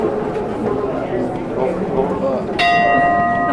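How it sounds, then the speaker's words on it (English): A single bell is struck once, ringing out with a clear sustained tone over a busy background of crowd murmur and talk in the open air. "Gonna ring the bell there."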